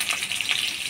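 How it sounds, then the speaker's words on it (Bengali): Potatoes with turmeric and salt fry in hot oil in a kadai, making a brief, bright, hissing sizzle close by. "এবার আলুগুলা হলুদ লবণ দিয়ে ভেজে নেব"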